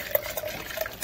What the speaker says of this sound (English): I'm going to put a little bit more vegetable broth in here